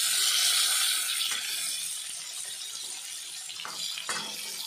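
Slices of eggplant frying uncovered in a pan, giving a steady bright sizzle that fades slightly over the clip, with a few soft scrapes and clicks near the end.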